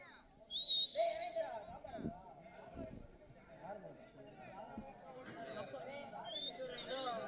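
A sharp, high whistle rings out briefly over a crowd's chatter and voices at a bull event, with the crowd clapping and whistling in encouragement, voices continuing underneath afterwards.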